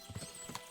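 Horses' hooves clip-clopping in Kingdom Come: Deliverance II, a brief quiet burst of a few hoof knocks on the ground with no talk.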